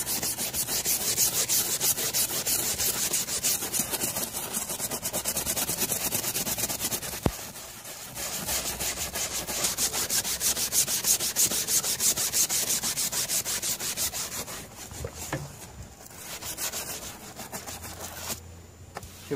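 A cruddy brush dipped in bucket water scrubs the white wall of a tire on a 1967 Toro Golfmaster golf car, a steady close rasping scrub running for long stretches with a few brief pauses.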